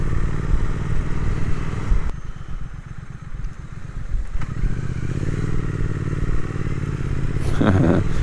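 A Triumph Speed Twin motorcycle engine labours at low speed and low revs, its steady throb sagging and faltering as if about to stall before recovering, heard close from the rider's position with wind noise.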